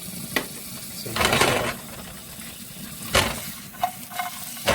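Butter and dry herbs for goat stew crackle and sizzle in a hot pan, with soft bursts of frying rising and fading alongside light utensil and pan clatter, near and moderately loud.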